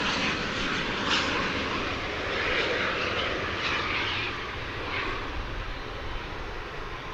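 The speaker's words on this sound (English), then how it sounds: "Japan Airlines Flight 12 is coming in from Haneda. It's an Airbus A350-1000." Japan Airlines Airbus A350-1000 landing at DFW airport after a flight from Haneda, a broad distant jet engine roar holding steady and slowly fading, heard alone without talk.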